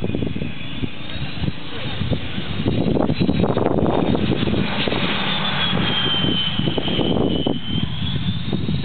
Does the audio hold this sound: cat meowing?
no